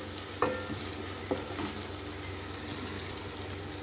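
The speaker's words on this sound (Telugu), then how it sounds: "కొద్దిగా పసుపు, కొద్దిగా కసూరి మెంతి, కొద్దిగా మునగాకు, అన్నిటిని ఫ్రై చేసుకుందాం" Turmeric, kasuri methi and drumstick leaves fry in a pan with a soft, steady sizzle, with a few faint clinks of stirring and no talk.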